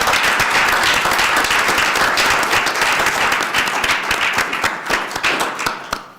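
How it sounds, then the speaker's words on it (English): Audience at a board of education meeting applauding, a loud, full round of clapping that begins strongly and gradually breaks into sparser individual claps as it dies away. "Mr. Mayor, would you accept a round of applause?"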